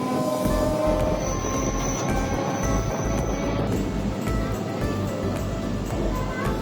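Lakshmikantapur–Namkhana local commuter train running along the line, a loud continuous rumble with rhythmic wheel clatter and brief high metallic squeals, heard from on board.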